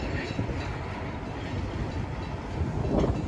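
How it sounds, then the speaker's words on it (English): A local freight train rumbling past close by on a rainy evening, a steady heavy roar of rolling wagons with faint rhythmic clatter. "and then there's the end of the train"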